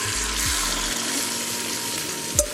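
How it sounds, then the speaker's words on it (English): Four scrambled eggs poured from a bowl into a hot cast iron pan, a steady wash of sizzling and frying hiss throughout with a small clink near the end, close and moderately loud, no talking. "now I'm going to transfer it over to this cast iron pan"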